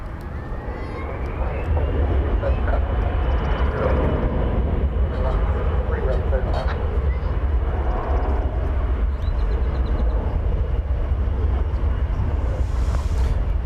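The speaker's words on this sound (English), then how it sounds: "Touching down after 13 hours and 28 minutes in flight from Hong Kong" A large airliner, slightly longer than an A380, lands at DFW Airport after a 13-hour flight from Hong Kong, its steady loud roar building in the first seconds and then holding constant, with wind buffeting the microphone.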